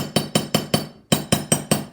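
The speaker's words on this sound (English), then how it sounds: "I'm going to go ahead and just do" Metal hammer striking wire to flatten a teardrop wireframe jewelry piece: eight sharp, evenly spaced taps in two groups of four with a brief pause between, loud and close with quick decays.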